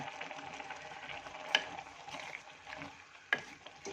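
Cooked greens being stirred and mashed with salt in a pot, giving a soft, steady scraping and squelching with two sharper knocks against the vessel, close and fairly quiet.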